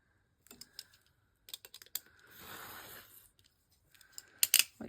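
Scissors trimming paper for a file folder pocket, a few short crisp snips with a longer rustling cut in the middle, close and fairly quiet.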